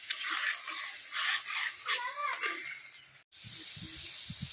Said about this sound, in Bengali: হলুদ দিয়ে ভালো মতো কষিয়ে নেব।